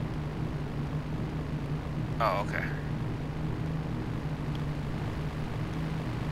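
Propeller plane in Grand Theft Auto 3 droning steadily overhead, a low continuous engine hum throughout, with a short spoken remark partway through.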